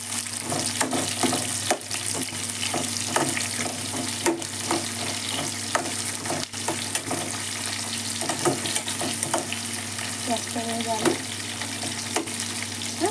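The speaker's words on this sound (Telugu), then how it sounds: "మంచిగా వేయించాలి." Sliced onions and okra frying in hot oil give a steady, dense sizzle that runs without a break, with scattered scraping clicks from stirring in the pan, close by.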